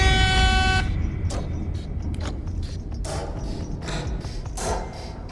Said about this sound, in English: The air horn also triggers Dial's full bar.